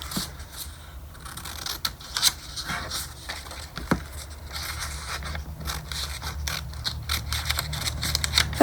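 Scissors snip through small paper tags at a craft table, giving a series of close, soft crisp cuts and light rubbing of paper, with quiet handling sounds between the snips and no talking.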